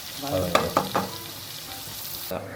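Onions sizzle in hot oil with a few sharp stirring clanks early on, then a quieter steady fry.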